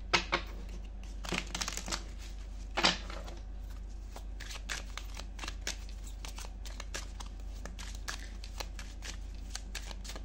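Tarot cards being shuffled by hand, a string of soft papery riffles and flicks at an uneven pace, close and fairly quiet over a low background hum, with no speech.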